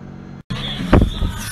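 Race car at night in the Spa 24 Hours 2019, running flat out up Eau Rouge at Spa-Francorchamps: a loud, steady engine roar close by, cut by a brief dropout and then swelling again.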